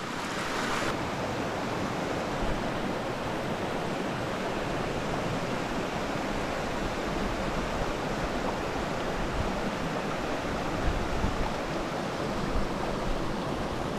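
Flowing water in a brook trout stream, a steady, dense rushing wash heard up close and continuous, with no voices over it.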